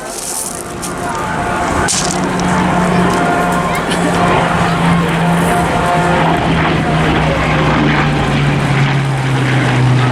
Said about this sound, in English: And now with another victory roll, handing over the stage to the mighty Lancaster.